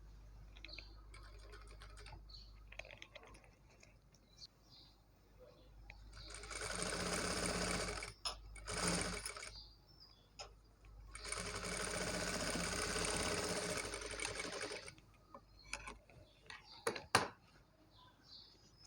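Sewing machine top-stitching blouse fabric, running in two sustained bursts of rapid, even stitching that are fairly close and clear, separated by quieter pauses with small handling clicks and faint background sounds.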